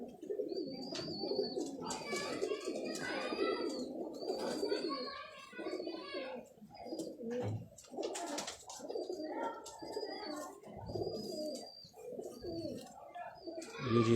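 Ferozpuri pigeons coo repeatedly in soft, throaty phrases close by, with someone talking over them throughout.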